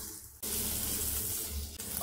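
A loud, steady sizzle of carrots frying in hot ghee begins abruptly and keeps hissing, with a brief dip near the end.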